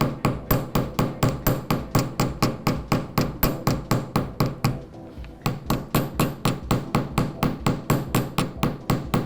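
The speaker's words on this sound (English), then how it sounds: "I'm using my finger to stabilize my hammer, and that helps me really direct my hammer strikes" A hand hammer strikes metal to texture a crescent for dangle earrings, with a steady run of sharp, evenly spaced metallic taps, close and loud, pausing briefly midway before the rhythmic striking resumes.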